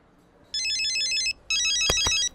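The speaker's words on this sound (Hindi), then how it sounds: "अरे मैडम का कॉल।" A phone rings with an incoming call in two loud, close electronic ringtone bursts separated by a short pause, with no talking over it.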